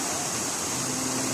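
Water falls at a waterfall in Mount Elgon National Park, a steady, even broadband rush with no breaks, heard briefly on its own without voices.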